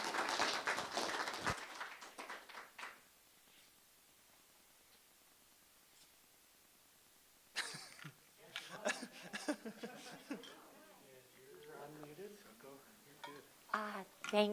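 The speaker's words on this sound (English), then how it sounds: "Let's give her a round of applause." An audience gives a brief burst of applause for a guest speaker, which fades after about two seconds into near silence before clinking and talking sounds begin.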